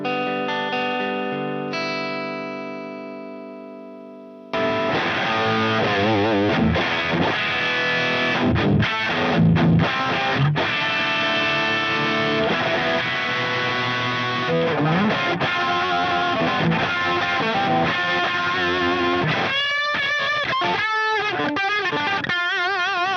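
Electric guitar with a split neck humbucker played through a vintage 1978 Marshall amplifier: a clean sustained chord first, then loud, driven, crunchy strumming and riffing that continues steadily without talk.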